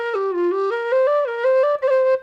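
A tunable plastic Susato tin whistle plays a short melody alone, clear sustained notes stepping up and down with brief breaks between phrases.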